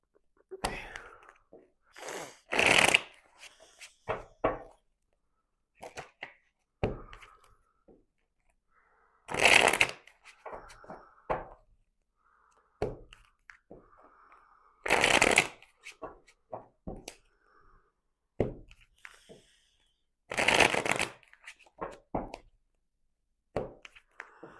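A deck of tarot cards is shuffled in short, crisp riffling bursts a few seconds apart. The shuffling is close and loud against quiet pauses filled with soft handling noises.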